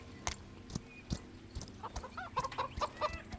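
Chickens cluck repeatedly inside a video game, short bright clucks bunching toward the end over soft clip-clop footsteps and low background noise, with no talking.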